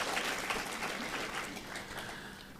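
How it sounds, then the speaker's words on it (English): An audience at a university public lecture gives warm applause to an ambassador, a soft, distant wash of many hands clapping steadily and slowly tapering off. "I would like to invite you once more to give a warm applause to Madam Ambassador Ibu Nadia."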